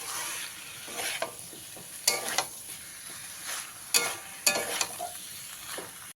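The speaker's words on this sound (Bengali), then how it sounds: "সুজিটা দিয়ে দেড় থেকে দু মিনিট একটু ভালো করে মিশিয়ে নিতে হবে" Boiled vegetables and semolina stirred in a pan for shukto, with a soft frying hiss under repeated scraping strokes of a spoon, several sharp clacks against the pan, and no talking.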